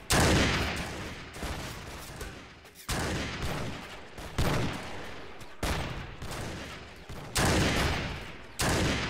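Volleys of gunfire in the Mount & Blade Warband Gekokujo mod, a battle at the Ikko Ikki's last defense, with repeated loud bursts of shots coming in waves over several seconds.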